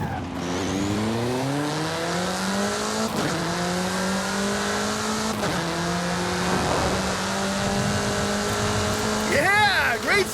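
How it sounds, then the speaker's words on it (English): A racing car revs hard in Forza Horizon 5, its engine climbing through repeated gear shifts, with loud tire squeals near the end under a continuous roar. "Get some speed, then turn into the countryside. Really see what this car can do."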